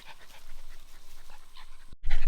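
A puppy pants quickly and steadily close by, short breathy huffs repeating in a fast rhythm before a brief louder rustle at the end.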